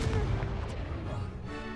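Confringo, an explosive spell cast in Hogwarts Legacy: a heavy booming blast with a rumbling low tail, followed by a second, fainter impact near the end.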